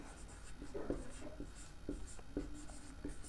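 Chalk or marker writing math on a classroom board, a scratchy series of short strokes and taps in an irregular rhythm, fairly close and moderately loud with faint background noise.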